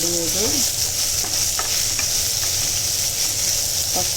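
Tomatoes frying in a hot pan for kadala curry, giving a loud, steady, bright sizzle with occasional soft scrapes and clinks of stirring.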